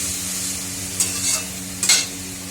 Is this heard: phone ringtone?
no